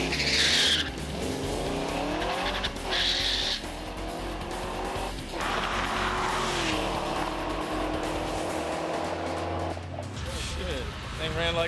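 A street car does a burnout launch, its tires spinning and squealing over a loud, revving engine in repeated hard bursts, with voices audible nearby.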